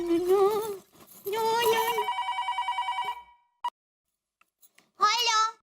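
A telephone rings in a Hindi TV sitcom household scene, a quick run of rapid electronic trills lasting about a second, set between stretches of voices talking.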